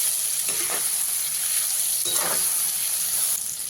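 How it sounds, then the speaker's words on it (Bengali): Soybean chunks frying in oil with turmeric and salt, destined for a potato-soybean curry: a continuous close sizzle with occasional louder bursts as the pieces are moved about. "সোয়াবিনগুলোকে খুব ভালো করে ভেজে নিন"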